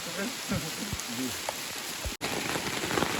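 Heavy rain pours down in a forest area, a dense, steady roar of drops on surfaces throughout, with voices talking over it early on and a brief cut near the middle.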